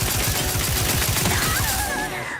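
Rapid game gunfire from The Outer Worlds 2 fills the moment, a loud continuous burst of repeated shots with no talking over it.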